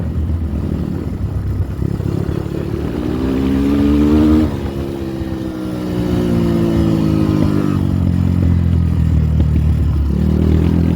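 A Diabolini 300 4T 2025 motorcycle engine revs steadily while riding, its loud, continuous drone climbing and dropping in pitch as gears change.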